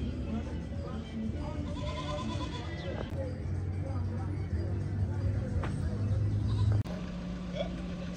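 Goats bleat in Uganda, several wavering calls heard at moderate distance over a background of voices and general outdoor bustle.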